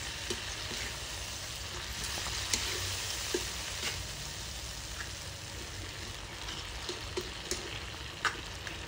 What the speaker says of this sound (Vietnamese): mình đảo qua đảo lại cho nó thấm mùi mắm